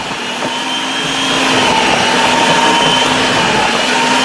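A 4 in 1 food processor runs at speed chopping food finely, its motor whining loud and steady after spinning up, with a constant high-pitched hum.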